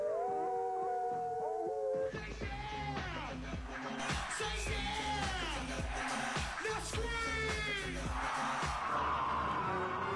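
Several people imitate wolf howls with their voices at a lively event, the long rising and falling howls overlapping loudly and continuously.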